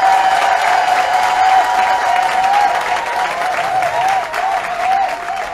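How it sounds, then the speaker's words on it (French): Crowd at an open-air Catholic procession and statue installation in Douala, Cameroon, applauding themselves in a loud sustained wave of clapping, with a whistle-like ringing tone running through it and a brief swell near the end. "je voudrais que vous vous applaudissiez vous-même d'abord."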